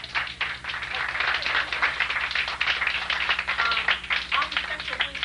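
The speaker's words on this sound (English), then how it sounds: "We want to give Dr. Jewel another round of applause." Audience at a lecture workshop breaking into applause: a dense, sustained clatter of many hands clapping, fairly loud and steady, with crowd voices mixed in.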